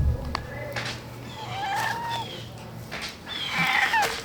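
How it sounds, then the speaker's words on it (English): A house cat yowls and meows in drawn-out, wavering cries close by, a couple of calls separated by short pauses, with some faint handling noise underneath. "Here's Bella, this cat."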